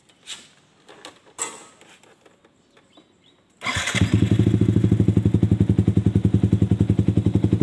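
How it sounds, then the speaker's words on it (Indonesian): A Yamaha R15 V3 motorcycle fitted with an Austin Racing exhaust starts after a few faint clicks and handling noises, then idles loud and close with a rapid, steady pulsing exhaust beat. "kita coba lihat suaranya Austin Racing nih kayak gimana ya"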